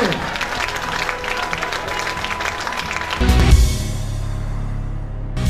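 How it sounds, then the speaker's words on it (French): A theatre audience at a stage hypnosis show applauds, a steady dense wash of clapping that swells louder near the end, with a low musical bed entering partway through. "On peut l'applaudir, merci"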